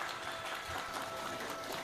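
Audience applause at a religious lecture on Javanese history, a steady dense clapping wash running faintly throughout without any speech over it.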